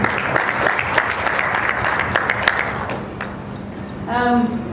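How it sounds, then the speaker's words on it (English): Audience applause after a speech at a UNICEF and DCA board event, a dense patter of clapping lasting about three seconds that thins out, followed by a voice speaking. "A big applause to UNICEF and DCA once again"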